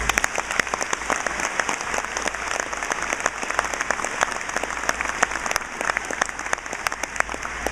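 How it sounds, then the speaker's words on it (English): Large audience applauding at a high school graduation ceremony, dense continuous clapping with sharp individual claps standing out, sustained and fairly loud. "Please give all these people a round of applause."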